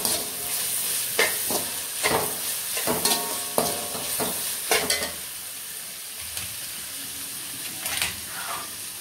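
Beans sautéing in oil for semiya egg pulao, with a steady close sizzle and repeated scraping strokes of a spoon stirring the pan, loudest in the first five seconds.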